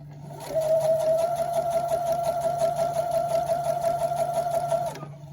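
A sewing machine runs steadily for about four seconds, stitching close along the edge of an infinity scarf, with a loud, even mechanical whir that stops abruptly at the end.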